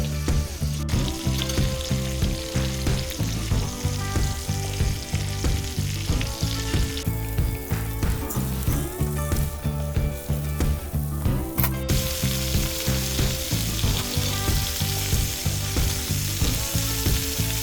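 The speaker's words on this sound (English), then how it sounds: "Just brown it up a little bit." Pheasant browns in bacon grease in a pan, producing a steady sizzle that sits beneath rhythmic, pulsing background music for the whole stretch. No one speaks.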